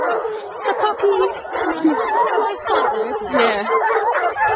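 Bloodhound puppies yip and bark in a busy, continuous chorus of high, overlapping cries, with human voices mixed in nearby.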